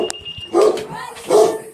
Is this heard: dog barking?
yes